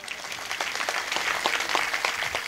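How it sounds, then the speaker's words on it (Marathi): A temple kirtan audience breaks into sustained applause, many hands clapping in a dense, lively patter that holds steady throughout. "एकदा सर्वांसाठी जोरदार टाळ्या वाजवा."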